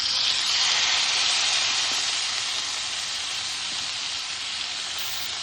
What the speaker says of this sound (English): I'm going to go ahead and add these chuck eye steaks to our pan.